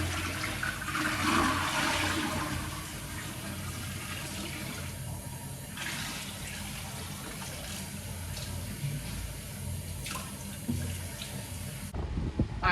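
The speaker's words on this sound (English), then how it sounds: "now we're gonna go ahead and take it to the bathroom and dump it out" Gray water from a van tank is dumped into a toilet, making a steady rushing, gurgling wash of water that runs continuously at moderate level, close by, then cuts off near the end.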